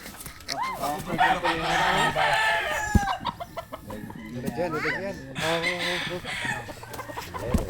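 Chickens clucking and a rooster crowing near a cockfighters' search for lost birds, loud bursts of calls close by with voices talking in between.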